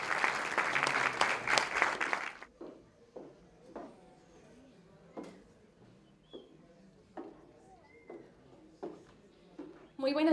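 Audience applause at an evening tribute honoring a luthier, a dense burst of clapping for about two seconds that stops abruptly, followed by quiet room sounds with scattered faint knocks.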